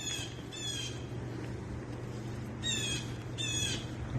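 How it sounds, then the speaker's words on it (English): A bird squawks from trees during a windy outdoor walk, bursts of harsh calls coming in two pairs against a steady rush of wind. "The bird has lots to say."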